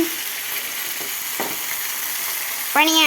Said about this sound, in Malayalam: നമ്മുടെ മീൻകുട്ടന്മാർ ഇവിടെ ഇരുന്ന് ഫ്രൈ ആയിക്കൊണ്ടിരിക്കുക.